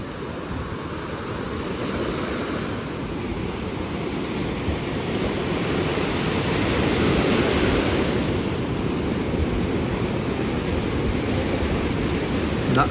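Big ocean waves break and roll onto the beach at Cam Bình in Vietnam, a steady loud wash of surf with wind noise on the microphone and no talking.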